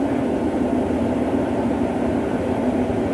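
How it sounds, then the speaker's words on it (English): A locomotive-hauled passenger train on the Liverpool to Norwich route approaching, a steady low rumble and rolling wheel noise that holds loud and constant throughout with no talk. "What's that approaching us? Looks like a locomotive haul train."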